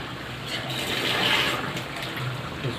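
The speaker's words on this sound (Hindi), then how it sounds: "इसको थोड़ा सा पानी डाल रहे हैं ताकि गोभी भी थोड़ा पक जाए" Water poured into a pot of cooking potato and cauliflower biryani, a steady close gushing splash that holds for a few seconds without talk.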